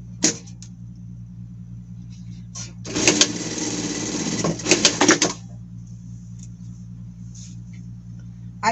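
A sewing machine stitches a pocket onto a knit shirt in a short burst of about two seconds of rapid whirring, with a few clicks before and after and quiet talk underneath.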